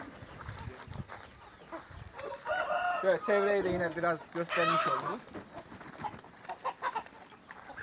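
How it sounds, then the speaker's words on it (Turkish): Aseel roosters and hens on a Turkish poultry farm, with a rooster's crow rising over clucking while someone talks nearby throughout. "Arkada iki tane Arap tavuğumuz var"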